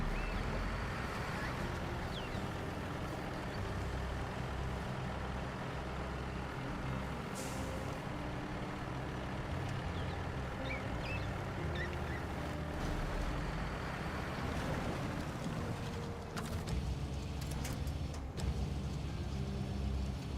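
Truck in the Chiapas map of a driving video game rolling along with a continuous, heavy engine rumble, joined briefly by air-brake hisses and short clicks near the end.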